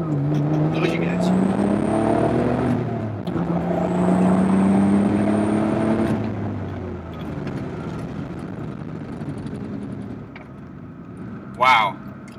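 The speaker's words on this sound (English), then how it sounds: "I'm going to take this car around a corner here." A Dodge Stealth R/T twin turbo accelerates and takes a corner, engine note rising and falling through gear changes, loud and close inside the car, with a voice speaking over it.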